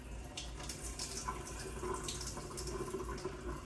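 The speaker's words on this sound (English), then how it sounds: "Next, we are going to turn on the faucet and control the force." Tap water running steadily into a sink during a nursing hand-washing demonstration, a continuous close splashing flow with no talking.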